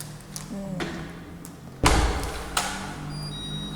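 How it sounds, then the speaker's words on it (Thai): A digital door lock on a house door engages automatically with a sharp mechanical clunk and thud, followed by a smaller click, heard close up with light background noise. "เสียงเขานะคะ ก็จะแบบล็อกอัตโนมัติแบบนี้นะคะ"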